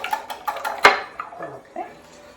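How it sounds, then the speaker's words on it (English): Eggs for scallion-zucchini pancakes are whisked with a metal whisk in a bowl, a quick run of light clinking and rattling strokes, one sharper clank, then softer scrapes trailing off. "So whisk your eggs together using your same whisk"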